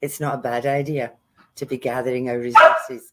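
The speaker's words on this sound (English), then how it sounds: "that's my dog" A dog barks once sharply near the end while a person is speaking.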